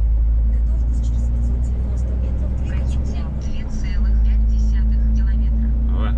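Autobahn traffic rumbles overhead, a loud, close, continuous low roar of cars and heavier vehicles passing on the road above, with someone talking over it.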